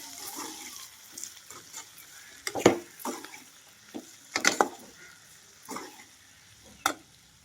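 Tomatoes frying in a pan alongside broad beans, heard as a low sizzle broken by several sharp stirring and scraping bursts at irregular intervals, fairly quiet overall.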